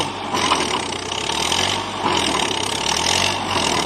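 A Komatsu D50A crawler tractor engine runs steadily in a rubber plantation, a loud, close, rough drone with slight swells in load.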